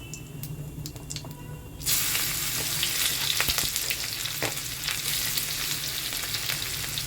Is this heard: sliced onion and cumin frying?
yes